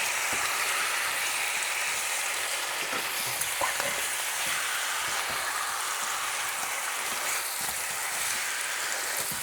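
Pears stewing in a pan of sugar syrup with vanilla give a steady soft sizzle and bubbling hiss, faint and continuous, with occasional small pops and stirring clicks.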